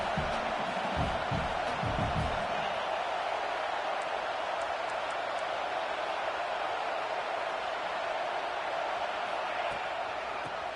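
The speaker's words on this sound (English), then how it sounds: "this crowd is turning it up a notch" Stadium crowd roaring steadily throughout a college football video game, a dense, continuous wash of cheering with a brief low rumble early on, no clear voices standing out.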